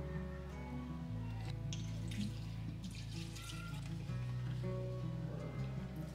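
Water trickles and drips while potted houseplants are watered after repotting, a soft, fairly quiet flow with a steady low hum underneath.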